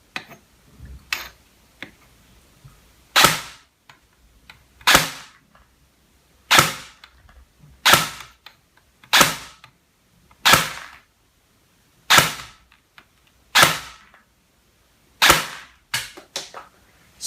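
A Bolt BRSS M16A4 airsoft gun firing 0.2 gram BBs, about a dozen sharp, snappy single shots at irregular intervals of one to two seconds, each with a short mechanical recoil clack, close and alone in a quiet room.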